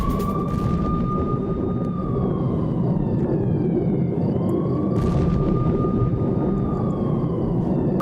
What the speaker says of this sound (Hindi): रॉकेट हमले और धमाकों की आवाज के बाद अफरा तफरी मच गई